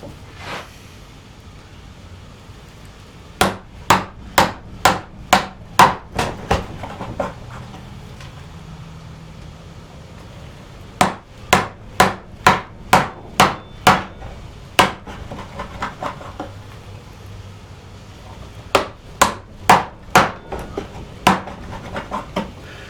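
A chisel struck with a mallet while chopping a mortise in wood for a joint stool, sharp loud knocks in quick bursts of about six to eight blows separated by short pauses, with no talking.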